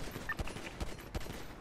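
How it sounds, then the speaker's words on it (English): Rapid gunfire in GTA V NoPixel roleplay, a quick string of evenly spaced shots over a busy, noisy background, with no talk. "we're shooting towards them now"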